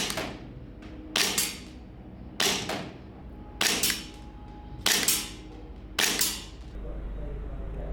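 An airsoft pistol fires six sharp, snappy shots of BBs at roughly one-second intervals, each a crisp crack with a short tail, close and loud, with a low hum setting in at the end.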